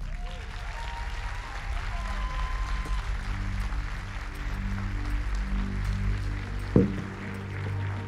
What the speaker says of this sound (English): One more time, ladies and gentlemen, a big round of applause.